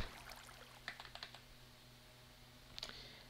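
Quiet clicks of typing on a computer keyboard while setting up a startup script, with short bursts of keystrokes near the start, a few scattered taps, then another brief flurry at the end, alone against a faint steady hum.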